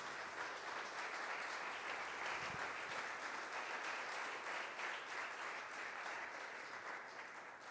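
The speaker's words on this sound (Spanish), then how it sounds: "Denle un aplauso al Señor en esta mañana." A church congregation applauds during a Sunday morning service, a steady wash of clapping heard at a distance and fairly quiet, continuing evenly throughout without speech.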